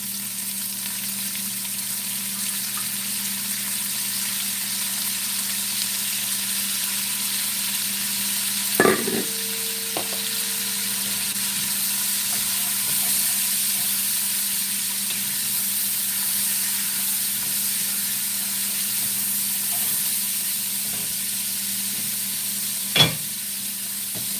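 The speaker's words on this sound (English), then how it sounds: "Throw your onions and fennel in." Onions and fennel sizzle in a hot pot coated with pork residue, a steady quiet frying hiss running throughout with a couple of sharp clinks from utensils against the pot.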